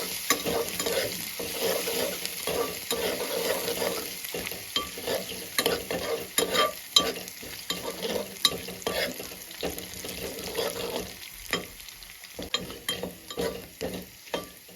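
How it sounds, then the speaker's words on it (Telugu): Ground spice paste for pepper rasam sizzles and fries steadily in a hot pan, with a spoon stirring and scraping throughout, close and continuous. "ఇందాక మనం దచ్చి పెట్టుకున్న రుబ్బన్న వేసుకుందామండి ఇప్పుడు బాగా వేగాలండి"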